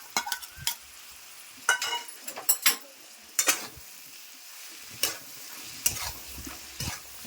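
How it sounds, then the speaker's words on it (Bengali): Spices with ginger and chili paste, cumin and turmeric frying in a pan for a home vegetarian lunch, a soft steady sizzle under repeated sharp scrapes and clinks of a spoon stirring. "এটা ভালো করে কষাবো।"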